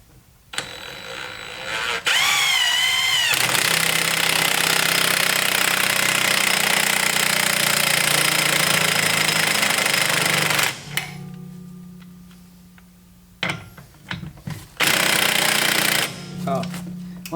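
Impact wrench driving ARP extended wheel studs into a Mazda Miata hub, a loud sustained mechanical rattle running for several seconds, then stopping, with shorter bursts and clanks afterward.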